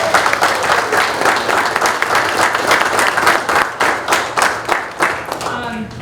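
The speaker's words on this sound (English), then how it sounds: "Let's give them a clap." Warm applause from a township trustees' public meeting audience honoring the 2022 Austintown girls softball state champions, steady and close, with individual claps becoming distinct toward the end.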